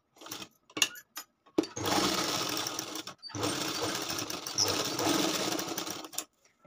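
A sewing machine stitches the lining of a katori blouse in two long, steady runs of close, loud whirring, with a few brief taps and clicks before and between them.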